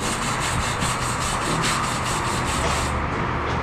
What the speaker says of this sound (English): I got a Wooster heavy duty wire brush. It's not stainless, it's just carbon steel, but it's very effective getting that rust off around those bolt heads.